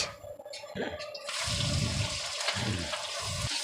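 Onions, 1.5 kilos, tipped into a little hot oil with bay leaf, dried chillies, cumin and whole spices, give a sudden watery hiss that swells into a steady, close sizzle with bursts of stirring.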